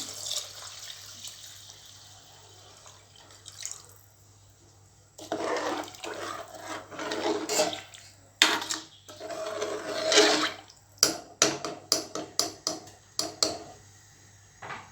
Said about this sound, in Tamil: 2 டம்ளர் அரிசிக்கு 4 டம்ளர் தண்ணி ஊற்றிக்கிறேன்.